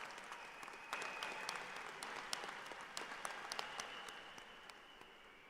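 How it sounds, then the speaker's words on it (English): A general assembly audience at a school district event applauds steadily for the full stretch, a dense wash of many hands clapping with scattered sharper claps standing out, fairly loud and continuous with no talk. "Let's give everybody another big round of applause before we get started"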